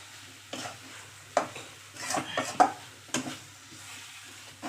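Besan flour being mixed with milk in a pan while cooking ladoos: close, soft scraping and stirring strokes with a faint sizzle and occasional light clinks of the spoon against the pan.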